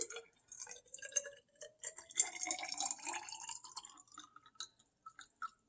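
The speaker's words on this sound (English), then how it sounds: "let's add some hot water to this cylinder to 100 milliliters" Hot water poured into a graduated cylinder up to 100 milliliters, a short bubbling, gurgling fill that rises in pitch as the cylinder fills, close and fairly faint.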